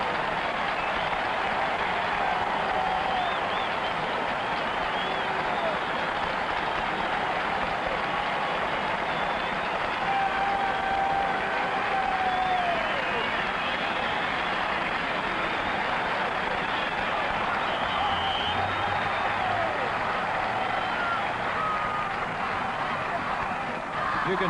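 Crowd at a 1970 CFL game between the Hamilton Tiger-Cats and the Edmonton Eskimos, a record crowd in Edmonton, making a steady, dense roar of cheering that holds for the full stretch and swells slightly mid-way on an old broadcast recording.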